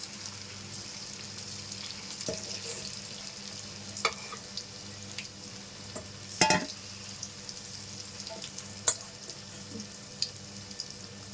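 Pieces of paneer 65 fry in hot oil with a steady low sizzle and crackle. Occasional sharp pops and scrapes from turning the pieces stand out, close by, with no talking.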